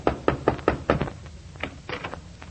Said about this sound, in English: is about to knock on the door of the Middletown Little Theater League